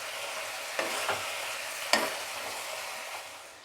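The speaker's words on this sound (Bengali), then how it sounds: "এবার সাঁতলাতে হবে মশলাটাকে" Spices for a mixed vegetable and mushroom curry sautéing in a pan with turmeric, salt and sugar, giving a steady frying sizzle with a few sharp spatula scrapes and clicks, close and alone.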